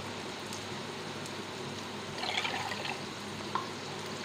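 Boiled water and vinegar are poured for a Kerala fish pickle, a soft steady splash that swells briefly in the middle, quiet and close with no voices.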